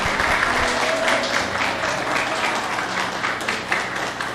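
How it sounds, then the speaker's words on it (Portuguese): A church congregation at a prayer house applauds, a sustained wash of many hands clapping steadily for several seconds at fairly close range, with a faint tonal hum underneath. "Você pode aplaudir a Jesus"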